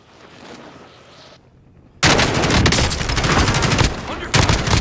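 Gunfire in Call of Duty: Modern Warfare Warzone starts with quieter distant shots, then breaks into a loud, dense burst of rapid automatic fire and blasts that keeps going close by, with a brief dip before the shooting resumes.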